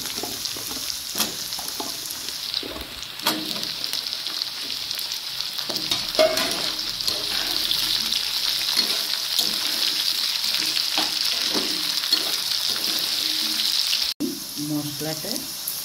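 Potatoes frying in a pan for jackfruit curry give a constant close, hissing sizzle with scattered stirring clatter, and a sharp knock near the end.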